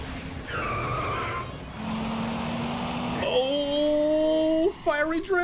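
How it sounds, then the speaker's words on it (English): A car drifts in a Yakuza 5 street-racing game: loud, sustained tire squeals rise and bend in pitch over a steady engine roar, ending in a burst of sharper skids. "Oh, fiery drifts."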